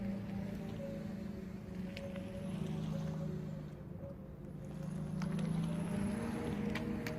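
An electric car of another brand emits its exterior pedestrian warning sound, a quiet, continuous low drone with steady layered tones that holds for several seconds alongside faint background noise.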